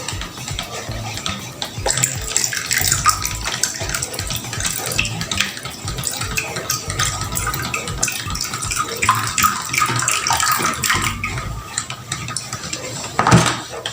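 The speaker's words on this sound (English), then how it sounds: "I'll be pouring this STPP here and soda ash solution into a Nutrisol. Watch me as I pour." STPP and soda ash solution pours and splashes steadily into a container while making homemade shampoo, for several seconds, with occasional clinks and knocks of equipment nearby.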